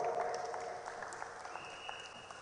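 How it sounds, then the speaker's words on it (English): Audience applause welcoming a speaker at a forum event, a moderate, fairly quiet spread of clapping that continues steadily through the clip. "Please welcome Carleen Suku with a round of applause."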